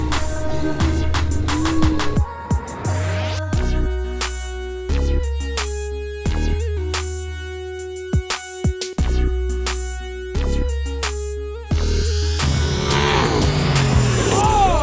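Polaris RZR off-road vehicle at an off-road park, its engine roaring loud and close with sharp revving swells, abrupt drops and thumps as it lands a jump, all through the clip.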